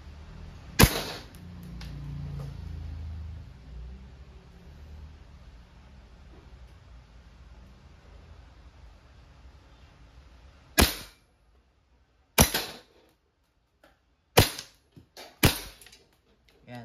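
A WE airsoft 1911 MEU silver semi-automatic gas pistol fires steel balls, giving one sharp crack early, then four more sharp snapping shots spaced about a second or two apart, close and loud against a quiet background.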